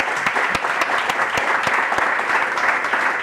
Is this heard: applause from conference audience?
yes